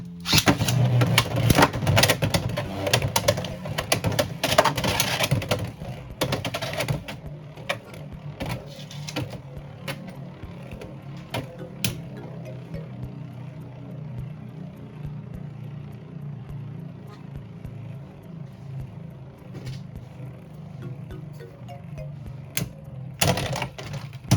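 Beyblade spinning tops in a durability test, a dense buzzing rattle of repeated clacks and scrapes, loud and busy at first, then settling into a steadier, quieter whir with occasional sharp knocks across about twenty-four seconds.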